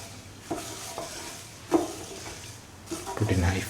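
Green gram and coconut stew being stirred and mixed in a pan of water over high flame, with soft scraping strokes and a faint sizzle that builds toward the end.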